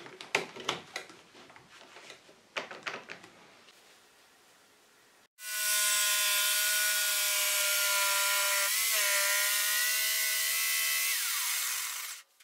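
A jigsaw cuts plywood for a garden table top, starting with a sharp steady whine that holds for several seconds after some scattered handling knocks and clicks.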